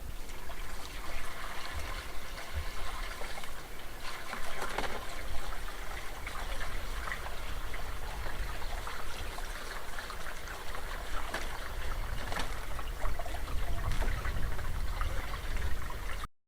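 Rainwater from a leaking roof at an off-grid home pours and trickles into a storage deposit, a continuous splashing stream that holds steady and fairly close throughout.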